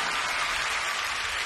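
A concert audience claps in dense, even applause, steady and fairly loud throughout the short stretch with no voices over it.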